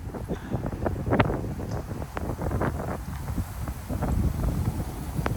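Strong gusting wind, around 30 mph, buffets the microphone beneath an oak tree in Frisco, Texas, with a steady broadband roar that swells and surges, plus faint rustling from leaves and branches.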